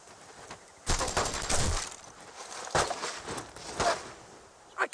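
Gunfire in Brothers in Arms: Road to Hill 30 rattles in bursts of rapid shots, loud and close, with quieter gaps and shouted voices mixed among the volleys.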